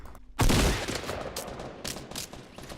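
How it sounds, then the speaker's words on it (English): Gunfire crackles in a Fortnite gunfight, opening with a loud close burst and then continuing as rapid shots and distant fusillade sounds over about three seconds, with no voices. "Someone's shooting me from behind"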